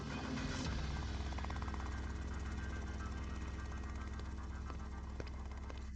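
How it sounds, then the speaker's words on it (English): A helicopter in a Roblox video game drones with a steady buzzing rotor hum that holds at an even, moderate level throughout, with no voices over it. "Majima then jumped into the helicopter, and the bandits successfully escaped the encirclement"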